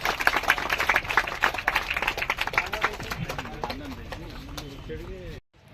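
An audience at a charity event claps to welcome guests, a brisk burst of many hands that fades after a few seconds as a voice begins to speak.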